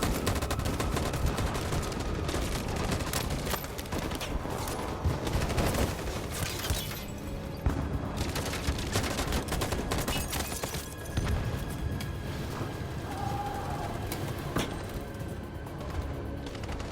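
In Detroit: Become Human, a sustained volley of gunfire crackles and bursts densely for many seconds. The shots come at moderate loudness with irregular clusters and no speech.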